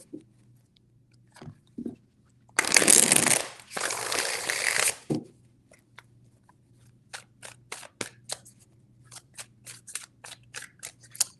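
Tarot cards are shuffled in a quiet room: a few soft taps, then a loud riffle lasting about two seconds, followed by a run of crisp, evenly spaced card snaps and flicks.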